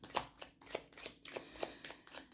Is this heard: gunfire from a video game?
no